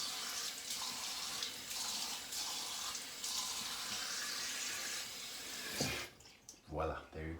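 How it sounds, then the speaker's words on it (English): A faucet tap runs steadily into a sink for rinsing, a broad, close hiss of water that cuts off near the end, followed by a voice speaking briefly. "Is it annoying to have the faucet tap rinsing running when I'm talking?"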